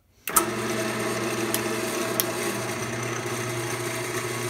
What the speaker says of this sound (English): we're gonna go ahead and drill it this way